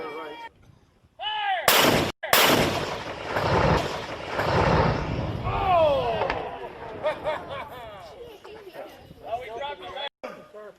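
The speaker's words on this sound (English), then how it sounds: "We're shooting these about 500 yards downrange" A cannon fires a sabot round about 500 yards downrange at targets, one loud, sharp blast with a long rumbling tail, while people talk nearby before and after the shot.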